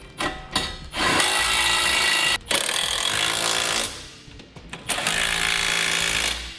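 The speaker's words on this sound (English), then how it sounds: "Now we use a 19mm socket to tighten our bolts." A power tool drives a 19mm socket to tighten trailer hitch bolts on a 2012 Toyota, running in loud sustained bursts with brief pauses between them, close to the microphone.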